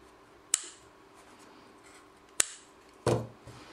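Scissors snip crochet yarn in three crisp, close cuts spread across a few seconds, each a sharp, brief click over near silence, the last one a little fuller and longer.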